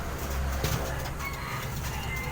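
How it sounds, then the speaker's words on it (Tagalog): Pigeons coo softly on a roof under a steady wash of outdoor background noise, with a brief rustle partway through. "So andun yung ibon natin sa taas."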